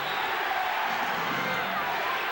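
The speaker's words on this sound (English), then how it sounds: "Crowd with the chant of defense." Arena crowd at Game 3 of the 1991 NBA Finals between the Chicago Bulls and Los Angeles Lakers chants for defense, a loud, continuous roar of many voices heard from within the stands.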